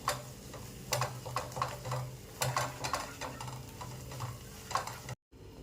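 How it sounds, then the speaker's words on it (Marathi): Masala paste is stir-fried in oil for a traditional Vidarbha-style spicy amti, a soft sizzle broken by regular spoon taps and scrapes against the pan, close but fairly quiet, ending in a short silence. "असं तेल सुटेपर्यंत आपल्याला हा मसाला चांगला परतून घ्यायचा आहे."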